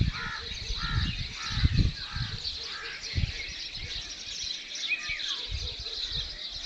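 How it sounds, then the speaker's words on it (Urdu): Crows caw repeatedly over a mix of smaller birds chirping and singing outdoors in the early morning, the harsh calls coming in irregular bursts near and far against a constant bird chorus. "یہ پرندوں کی خوبصورت آوازیں سنیں، یہ کیا کیا تسبیح کر رہی ہیں. کتنے پرندوں کی آوازیں آ رہی ہیں"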